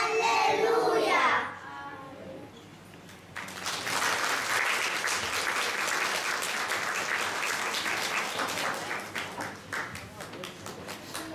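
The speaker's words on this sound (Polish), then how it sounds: "Proszę Państwa, bardzo proszę o brawa." Audience applause for the youngest child actors at an Easter exhibition event in a Polish village community, dense clapping swelling after a brief voice at the start and continuing steadily, slowly thinning toward the end.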